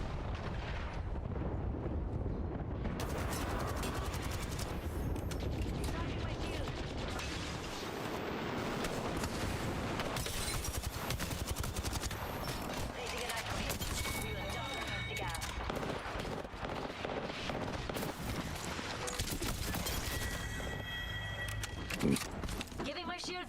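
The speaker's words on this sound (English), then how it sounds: "Heads up, we've got an airstrike coming in." Dense, continuous barrage of explosions and gunfire from an airstrike in a video game, loud and unbroken, with booming impacts throughout and voices talking over it.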